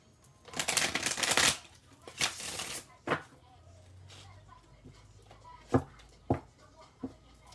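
A deck of tarot cards is shuffled in several quick riffling bursts, the first one long and loud, followed by shorter crisp flicks and taps, with no talk.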